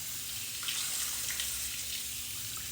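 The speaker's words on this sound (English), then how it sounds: "I'm gonna start with a rinse at the sink." A sink tap runs at full flow while a wig is rinsed beneath it, producing a bright, continuous splashing hiss, close and steady throughout, with no talk.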